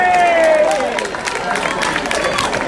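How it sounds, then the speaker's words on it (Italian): A crowd gathered in the Piazza della Bocca della Verità applauds a speaker at a rally, loud and close, with scattered cheers and voices mixed into the clapping. "Vi ringrazio per gli applausi"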